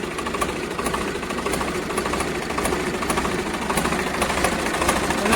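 A Massey 1035 tractor's diesel engine runs at a steady idle, giving a continuous rattling, knocking chug with regular sharp ticks, close and fairly loud with no talk.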